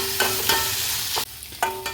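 Ginger, garlic, green chilli and onion are sautéed in a pan for egg rice, a loud close sizzle broken by several sharp spatula scrapes and stirring strokes at an uneven pace, with no talking.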